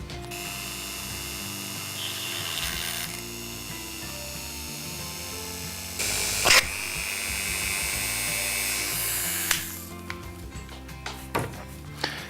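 An electric drill bores a small hole at a removed rivet spot on a diecast model car, several bursts of high-pitched whirring separated by pauses, with clicks and handling noises between them.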